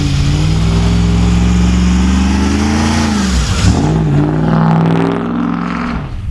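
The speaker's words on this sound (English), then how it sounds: "I'm literally just normally driving down this road right now." A lifted pickup truck driving down a road covered in deep fresh snow, with a loud, close, steady engine drone that dips and shifts pitch midway, then eases slightly toward the end.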